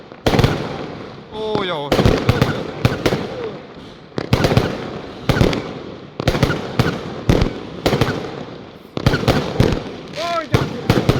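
Fireworks bursting over a New Year's Eve celebration in China, a rapid series of loud, sharp bangs and crackles in quick irregular volleys with whistling rockets between them, while excited voices exclaim nearby.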